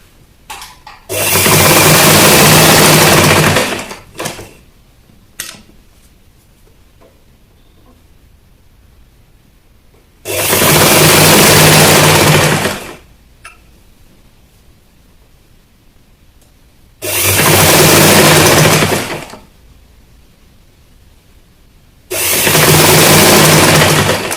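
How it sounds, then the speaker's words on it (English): Sewing machine stitching the back piece of a peplum blouse in main fabric, running in four loud, steady bursts of a few seconds each, separated by quiet pauses with faint handling noises. "So I'm now sewing the second part of the back piece."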